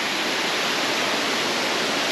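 Natural water pours steadily at a forest waterfall in Valencia, Negros Oriental, a loud, dense, unbroken rush with no voices.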